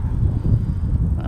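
Wind gusting outdoors at a fishing spot, a steady low buffeting rumble close on the microphone that carries through the whole moment with little change.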